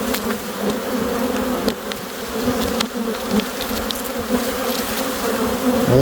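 Honey bees swarm in a dense, loud buzzing drone while being moved from one hive to another, a close, continuous hum with occasional individual bees zipping past the microphone.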